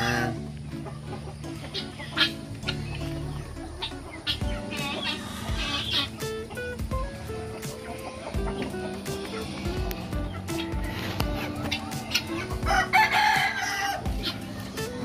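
Backyard chickens clucking steadily while a rooster crows now and then, a busy close flock with soft background hum.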